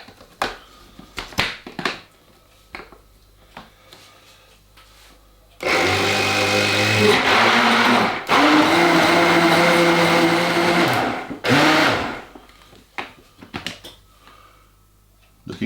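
A blender whirs loudly for about six seconds while mixing a coquito Christmas drink, with a brief dip midway, framed by quieter kitchen clatter and handling knocks.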